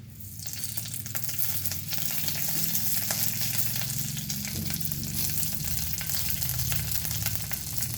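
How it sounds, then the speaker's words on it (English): Mustard and jeera seeds sizzling in about half a teaspoon of oil for a tadka over a low flame, a steady close crackling hiss that holds unbroken throughout. "And now we will give tadka with very less, like it is like half teaspoon of oil, just for the mustard seeds and jeera seeds"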